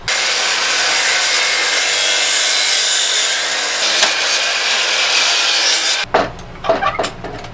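Power saw cutting excess lumber into small 45-degree corner seat pieces for a basic sandbox, a loud steady whine through the wood for about six seconds before it stops and brief clatter and handling noises follow.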